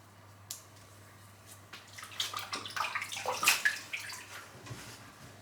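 A razor rinsed under running water makes close splashing and trickling that swells for a few seconds, then fades to quiet drips, with no voices.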